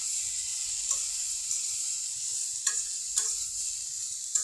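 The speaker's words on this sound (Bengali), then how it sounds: "কেটে রাখা ঝিঙেগুলো দুম্বাগুলো দিয়ে দিব। নুন দিয়ে দিলাম হলুদের ফাঁকি। এবার ভালো করে নেড়ে নেব।" Ridge gourd pieces with salt and turmeric sizzle steadily in a frying pan, a constant bright hiss broken by several sharp scrapes of a spatula stirring, close and without talk.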